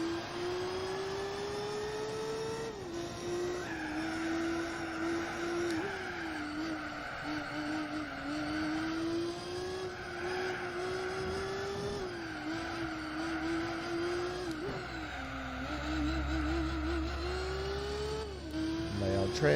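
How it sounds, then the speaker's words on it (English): Race cars in Gran Turismo 4 on the Grand Valley endurance circuit, engines droning and revving steadily with gear shifts, a dense pack of traffic sustained throughout, with a voice talking over it at times. "Loud traffic."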